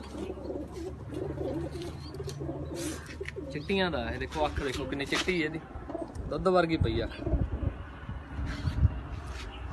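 Pigeons, kept racing birds including a red Chinese pigeon, coo softly over steady background noise while someone talks throughout.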